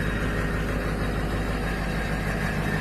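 A 2005 6.0 diesel engine with 202,000 miles on it idles steadily just after a cold start, a continuous close rumble with no talking over it.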